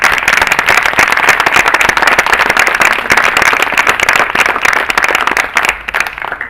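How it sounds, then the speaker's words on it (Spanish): A crowd applauds at a May Day talk in Uruguay, with dense, loud, sustained clapping from many hands that thins slightly toward the end. "Aplauso por eso."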